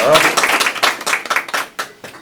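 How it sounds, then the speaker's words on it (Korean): Short burst of applause from a classroom audience during a student group presentation on digital communication, a cluster of claps rising and fading in uneven bursts. "박수 한번 주시고요."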